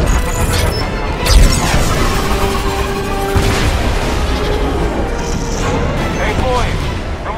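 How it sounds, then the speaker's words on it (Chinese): Sonic booms whoosh past in the sci-fi shooter game 星際戰鷹, two sweeping rushes standing out over a dense, loud wash of battle noise and rumbling explosions. "附近呼啸而过的音爆声响也让人印象深刻"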